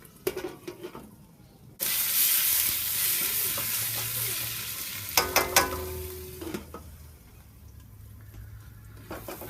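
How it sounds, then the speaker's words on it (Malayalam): Masala for a Kerala-style chicken curry sizzles in a pan while a spoon stirs it, a close hissing fry broken by clustered scraping clacks, with quieter stretches at the start and end and no talk. "നന്നായിട്ട് വഴന്നു ഇതേപോലെ നന്നായിട്ട് വഴറ്റിയെടുക്കണം"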